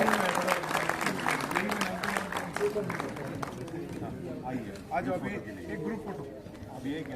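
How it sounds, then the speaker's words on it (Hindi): Applause from a crowd at a community award and career-guidance ceremony, dense clapping filling the room under ongoing chatter and a voice speaking over it. "तालियां हो जाए इनके लिए।"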